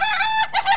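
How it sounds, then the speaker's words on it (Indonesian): A laughing chicken (ayam ketawa) crows, long, strained and cackling, rising and breaking into a stuttering, laugh-like rhythm, loud and close. "Inilah namanya ayam ketawa."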